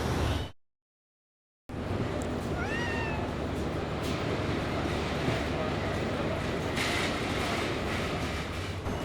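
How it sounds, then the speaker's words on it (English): Street cats meow in a city neighbourhood, giving a couple of rising, wavering cries over a dense wash of traffic and urban rumble, with people talking nearby. "I love the cats in this area."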